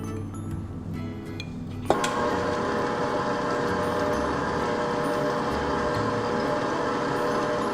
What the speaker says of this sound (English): now I'm going to mix my cocoa powder into my stand mixer